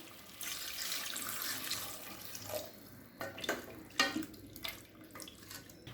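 Water pours steadily into a pressure cooker holding sautéed mutton for Tamil mutton kulambu, a continuous rushing stream that thins into scattered splashes and drips toward the end.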